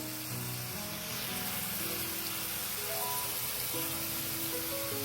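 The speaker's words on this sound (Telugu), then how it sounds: "పన్నీర్ అన్ని సైడ్ డార్క్ బ్రౌన్ కలర్ వచ్చేంత వరకు ఫ్రై చేసుకోవాలి." Cubes of paneer fry in a pan, browning for a tomato paneer biryani, with a constant soft sizzle throughout that sits beneath background music.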